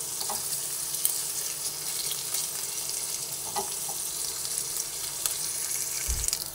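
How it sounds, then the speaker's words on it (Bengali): Chopped onions fry in hot oil, giving a steady close sizzle with occasional small pops and a brief stir or clink near the end, no talking. "পেঁয়াজটা ভেজে নিচ্ছি।"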